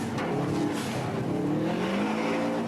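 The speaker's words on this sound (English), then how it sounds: "Drivers are pushing their cars to the limit in head-to-head races and speed contests." Modified cars in illegal street racing, engines revving hard with a tire squeal, loud and continuous over a constant roar of traffic noise, no talk.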